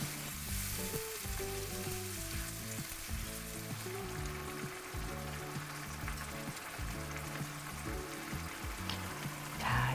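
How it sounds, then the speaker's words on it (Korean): Mushrooms and other prepared ingredients stir-fry in a pan for a tofu dish, with a loud continuous sizzle and repeated scraping stirs, then a softer bubbling at the end. "준비한 재료를 다 넣고 볶아준 다음에는 물을 한 150ml 정도 넣고 끓여줄게요"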